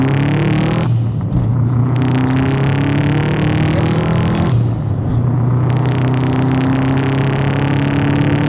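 A Subaru Impreza GT fitted with an HKS exhaust revs hard and close, with loud sustained engine roars broken by two brief throttle lifts.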